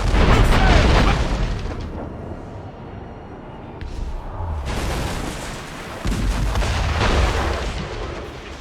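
Ship cannons roar in Assassin's Creed Rogue naval combat: a heavy opening boom rolls off, followed by several more deep blasts and rumbling impacts across the stretch, loud and close, with no speech.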